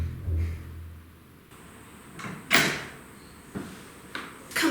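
A door being opened and closed indoors, a series of scattered knocks, clicks and a louder thump over a few seconds against a soft background hum, with no talking.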